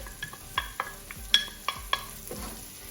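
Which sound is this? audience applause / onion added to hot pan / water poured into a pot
onion added to hot pan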